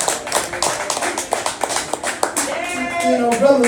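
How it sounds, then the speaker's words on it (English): Audience applause for candidates and speakers at an evening political event honoring Sen. Vincent Fort, a burst of clapping with a voice rising over it toward the end. "Let's have a big round of applause tonight."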